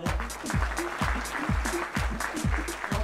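An audience at a company product launch event claps loudly and steadily in a dense burst, with a thumping low beat pulsing about twice a second underneath.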